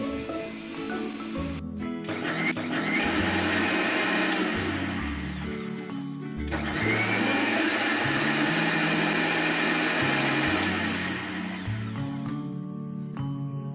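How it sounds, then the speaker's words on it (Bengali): A blender purees boiled chillies together with their cooking water for a homemade sweet chili sauce. It gives a loud, steady motor whir in two long bursts separated by a brief pause, then cuts off near the end. "মরিচগুলোকে ব্লেন্ড করে নেব।"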